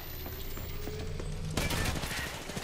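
Gunfire in the Apex Legends video game, a sudden burst of loud shots starting partway through, over a steady game background.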